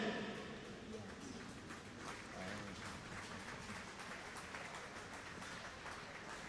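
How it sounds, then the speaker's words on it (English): Crowd applause at the Irish Open Swimming Championships greets the winner of the men's 1500 metre freestyle final, a steady wash of clapping from a large indoor pool audience with a commentator talking over it. "So the crowd add their applause to the winner."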